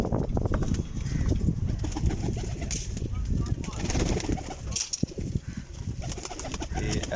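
Pigeons coo steadily in a busy flock, close by, with occasional wing flutters and a dense crowd of bird sounds throughout.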